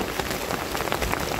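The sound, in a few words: heavy rain while fishing for tilapia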